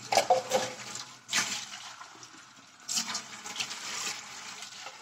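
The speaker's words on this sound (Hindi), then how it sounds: "साथ एक गिलास पानी डाल दूंगी।" Water from a glass poured into a pot holding carrot pieces with ginger and garlic, a splashing pour in bursts, close and moderately loud, with no talk over it.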